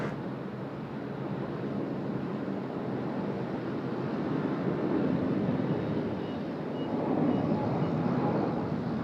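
A Cebu Pacific Airbus A330 with 458 seats departs Sydney Airport, its engine roar a broad, steady rumble heard from a distance that swells slightly toward the end, mixed with wind buffeting on the microphone.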